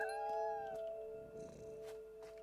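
Meowing and yowling from a cat in the video game What Remains of Edith Finch, a drawn-out tonal cry at moderate level over faint background ambience.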